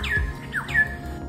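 A black-hooded oriole gives loud, clear calls, two or three downward-sliding whistled notes in quick succession, close and alone without talk.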